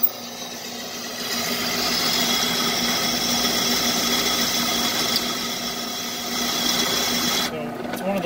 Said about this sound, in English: get the drill bit stuck sometimes. I gotta use the rapid tap